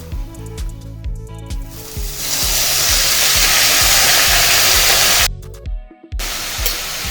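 Onions and leaves sizzling in a frying pan, a loud, steady frying hiss that swells after a quieter start, drops out briefly, then resumes over a faint rhythmic background beat.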